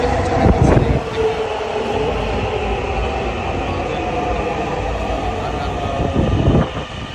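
A Dhaka metro rail Line 6 train runs steadily, a loud continuous rumble and whine of wheels and motors heard from aboard, with bumps near the start and end.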